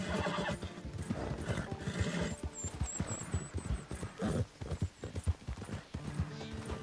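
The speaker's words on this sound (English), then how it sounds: "Let my horse get a breather." A horse in a Call of Duty zombies video game clip-clops with rhythmic hoofbeats and gives snorts and a whinny, heard close and fairly quiet with no talk.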